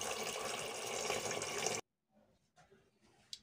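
Running tap water pours steadily into a pressure cooker to cover vegetarian burger ingredients, then cuts off abruptly, leaving faint drips and soft clinks.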